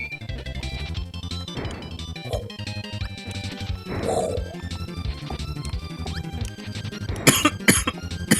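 Several sharp coughs break out over busy Kirby Super Star game music with beeps and jingles, followed by a loud crash-like burst near the end.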